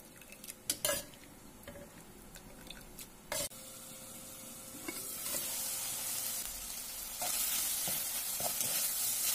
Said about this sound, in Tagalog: Tapos inihalo ko na nga dun sa nagisang mga sahog.